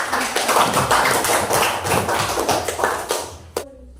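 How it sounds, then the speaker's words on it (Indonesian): Classroom applause for a group's correct answer, a dense flurry of hand claps from many students that runs for several seconds and then stops abruptly. "Tepuk tangan dulu."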